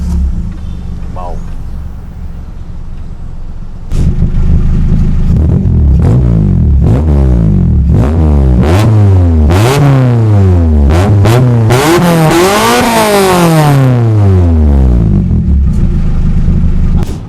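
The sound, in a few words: modified car engine revving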